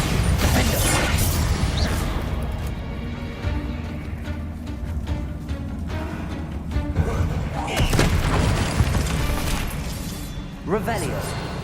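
Booming spell blasts and thuds from Confringo and Bombarda casts in Hogwarts Legacy, several heavy bursts spaced through a busy combat scene, with a voice calling out over the action.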